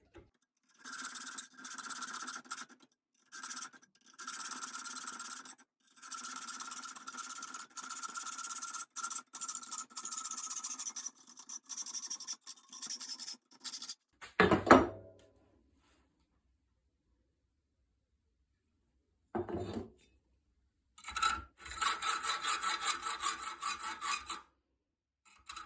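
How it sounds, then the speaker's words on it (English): A hacksaw cuts through a metal square for an old Vitamix blender in repeated rasping strokes, each harsh and scratchy, pausing midway and ending after a few final strokes. "for now, this is hacksawing."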